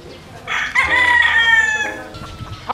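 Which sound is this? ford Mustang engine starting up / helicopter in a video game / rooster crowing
rooster crowing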